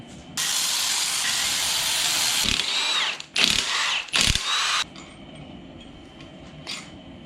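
A power tool spins out 10 mm bolts from the caps of a 6.0 engine, with bursts of loud whirring and ratcheting, one long run followed by two short ones, then quieter background, close up with no speech.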